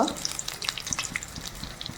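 A bean and gourd leaf mixture fries in oil with a steady crackling sizzle, and close stirring scrapes and pops run throughout.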